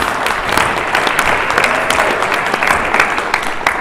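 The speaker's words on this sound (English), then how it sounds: "Clap for Michelle because she did it in under 60 seconds." A room full of people clapping steadily at an expo session, dense and bright, sustained throughout with no pauses.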